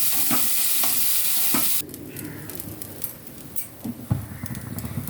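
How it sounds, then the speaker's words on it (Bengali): Crab pieces frying with turmeric in a pan, giving a steady close sizzle broken by stirring scrapes and occasional louder spatters. "ভালো করে ভেজে নেবো তোর ভাজা ভাজা হয়ে গেছে"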